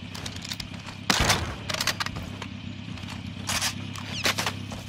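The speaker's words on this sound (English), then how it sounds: "they're shooting at us" Gunfire in Call of Duty: Warzone, with a few sharp shots cracking over a steady low rumble of background noise and scattered rustling and clicks.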